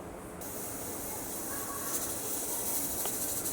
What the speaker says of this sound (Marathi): ह्या आपल्या इथे शिट्ट्या सुरू झालेल्या आहेत कुकरच्या.